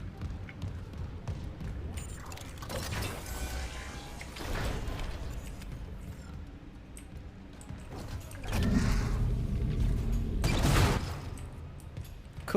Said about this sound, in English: So the tram system works.